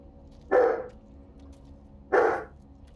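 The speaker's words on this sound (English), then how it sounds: "The dog is loud, yeah." A restless dog barks twice indoors, two loud, sharp barks about a second and a half apart with near silence between them.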